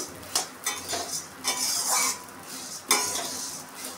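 Flattened rice (poha) fries in a pan while a spoon stirs it, giving a soft dry sizzle broken by about half a dozen crisp scraping strokes against the metal, close up and without speech.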